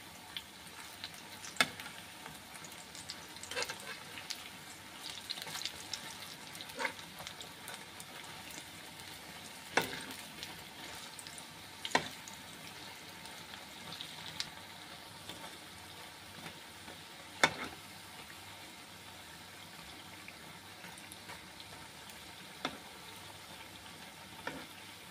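Food fries in a pan with a quiet, steady sizzle, punctuated by sharp taps and clicks at irregular intervals as pieces are turned over one at a time.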